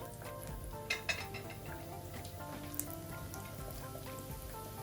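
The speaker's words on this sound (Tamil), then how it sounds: "இந்த கொரக்கா புளியை நான் இதுக்குள்ள போட்டு கொஞ்சம் நல்லா வதங்க விட போறேன்" Pieces of goraka (garcinia) sautéing in hot olive oil in a pan, a quiet steady sizzle with a few soft pops and clinks, close and faint.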